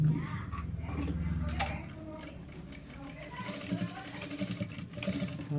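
A sewing machine stitches a katori blouse with a soft mechanical whir and intermittent clicks, close and fairly quiet, and a voice speaks over it in places.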